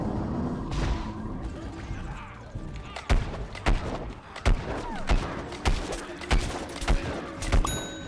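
Rapid gunfire in Plants vs Zombies Garden Warfare 2, a string of sharp, punchy shots in an uneven burst pattern over game noise, with a player's voice talking at times.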